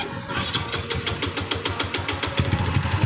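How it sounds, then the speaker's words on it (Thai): A mechanic starts a Honda Dream Super Club motorcycle fitted with a 58 mm piston, and the engine settles into a steady, evenly pulsing single-cylinder idle, close and moderately loud. "เดี๋ยวให้ช่างสตาร์ทให้ฟังนะครับ"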